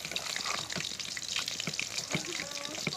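Slit green chillies sauté in hot oil in a pan, a steady close crackling sizzle with scattered pops and the occasional scrape of a stirring spoon, no voices.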